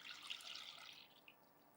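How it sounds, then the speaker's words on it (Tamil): Half a litre of milk pours into a cooking pan in a steady, soft liquid trickle and splash, close by and quiet, with no voices. "இப்போது பேனில் இந்த பால் ஊற்றிக்கலாம்."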